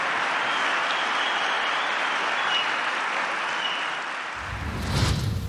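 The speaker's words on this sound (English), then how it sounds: "You got the golf clap, by the way, in the back." An audience gives a light, polite golf clap, a soft sustained patter of many hands that fades out, followed by a short burst of low noise at the end.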